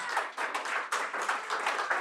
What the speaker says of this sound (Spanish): Si va a aplaudir, apláudele fuerte